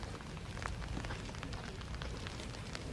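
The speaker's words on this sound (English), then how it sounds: "it did start to rain." Rain falling in Copenhagen near a bay and garden, a soft continuous patter of drops on surfaces, faint and even with no voices.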